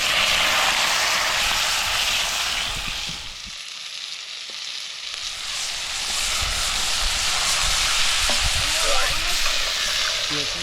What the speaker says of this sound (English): I'm going to get that pan nice and hot, and then I'm going to chuck the meat in and a little bit of rosemary and a bay leaf